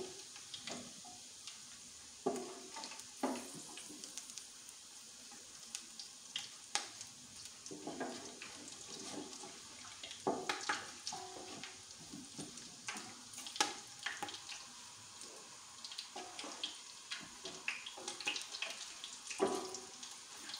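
Bay leaves and whole spices fry in a pot for a paya curry, a steady sizzle with scattered clinks and stirring knocks throughout, fairly quiet and with no talking.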